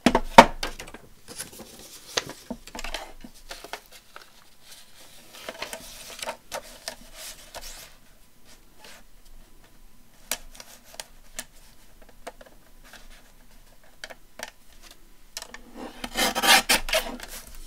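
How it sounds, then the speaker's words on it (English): Excess paper is trimmed off a handmade journal in a run of close, scratchy, rasping strokes. A louder flurry comes near the end. "and we'll trim that off."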